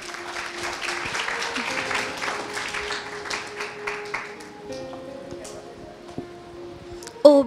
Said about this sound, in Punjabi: ਜ਼ੋਰਦਾਰ ਤਾੜੀਆਂ ਮੈਮ ਲਈ।